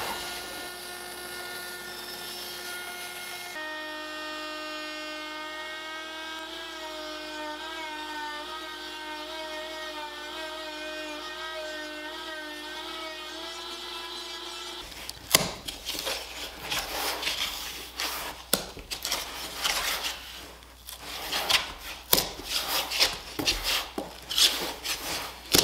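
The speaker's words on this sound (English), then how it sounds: "now I'm going to cut this excess off at the bandsaw" A bandsaw hums with a steady motor whine for several seconds, then bites into excess wood in a workshop, giving a series of loud, rasping cutting bursts.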